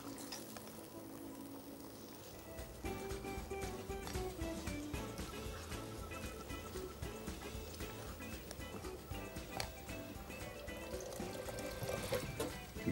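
Water poured into a pot for a cooking preparation, with sweet yellow zarda food colour to follow. A steady liquid rush with sizzling and stirring runs continuously and fairly close for most of the stretch, with no talk over it.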